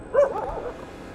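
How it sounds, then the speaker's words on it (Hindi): A dog gives a single short bark or yip at night, at a middle distance, followed by a faint whimpering tail and low background hiss. "कुत्ते किसके पीछे भौंक दे"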